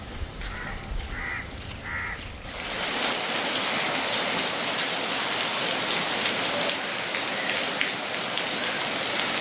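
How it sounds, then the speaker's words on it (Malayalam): Heavy rain pours down steadily outdoors during a family Vishu festival gathering, starting abruptly after a few quiet seconds with faint crow caws, then a dense, loud continuous hiss of rainfall with no talking. "മഴയാണ്, മഴ മഴ മഴ മഴ."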